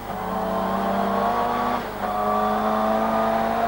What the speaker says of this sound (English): So getting 500 horsepower down onto the road in what's basically a saloon car causes quite a few interesting situations.